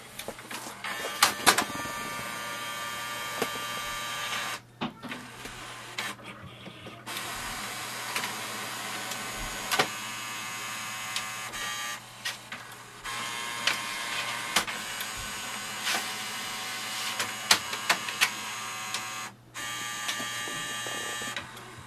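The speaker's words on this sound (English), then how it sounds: "select the source as a document feeder and also click on the two-sided scanning" An HP OfficeJet Pro 9012 printer scanning two-sided from its document feeder gives a steady mechanical whir and hum with rolling feed noises, brief pauses and clicks as pages move through, heard close and alone.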